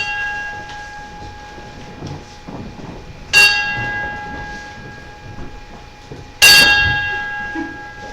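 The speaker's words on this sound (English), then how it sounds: "I'll ring this bell a couple of times and then I'll tell you why." A hand bell rings twice at an outdoor Fourth of July celebration, two bright clanging strikes several seconds apart, each with a ringing tail, over a quiet murmur of the crowd.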